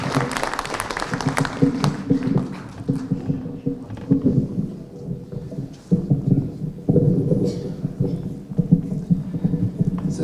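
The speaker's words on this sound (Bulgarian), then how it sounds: "Нека да приветстваме с аплодисменти господин Мартин Карбовски." Audience at a political rally in Karlovo applauding a speaker's introduction, a dense wash of clapping that swells, dips briefly and resumes, with some crowd voices mixed in.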